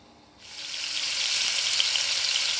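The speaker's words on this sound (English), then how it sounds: "So the caraway pops for about 5-10 seconds, and I'm adding my mix." Caraway seeds pop and fry in hot vegetable oil for a vegetable curry, starting with a quiet lead-in and then a loud, steady, close hiss of sizzling with faint crackles throughout.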